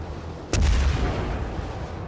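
A single sharp cannon-like shot from a warship's secondary guns cracks out in World of Warships, followed by a low rumbling boom that lingers under a constant noisy background of game battle.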